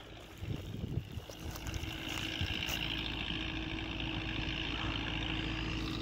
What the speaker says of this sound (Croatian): Sad ćete vidjeti, oremo 4. sporom.